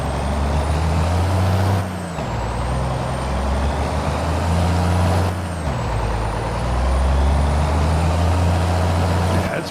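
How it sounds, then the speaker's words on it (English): Volvo truck driving in Farming Simulator 22 on PS5, a steady low engine drone with brief dips as gears shift, plus a faint high whine, loud and close with no talk. "But Bill's truck, this Volvo"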